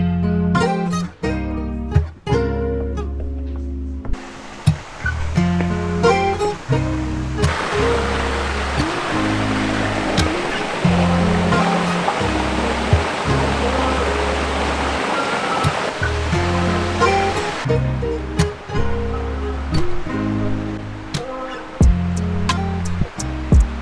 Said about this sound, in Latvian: Sāka līt, jā. Diezgan stipri.